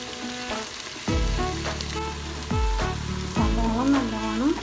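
Onions frying in oil with salt and garam masala for Kerala beef perattu, a steady sizzle under loud tonal background music, with stirring scrapes every second or so.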